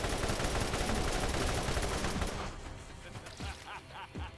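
Rapid gunfire from the Borderlands video game rattles loud and dense for about two seconds, then thins into scattered shots and impacts with a voice briefly under it.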